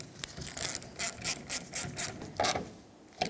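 Ratchet tightening screws on a replacement fuel filler pocket of a 2009-2014 Ford F-150, a series of short close clicking and rasping bursts with brief pauses between them.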